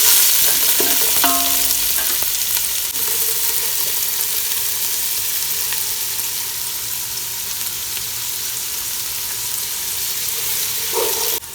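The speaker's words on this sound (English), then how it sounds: "Now add in the onion. Fry them till golden." Chopped onions fry with whole spices in a pan on a low flame for a Goan sausage pulao, giving a steady close sizzle with a few utensil clinks and stirring scrapes early on.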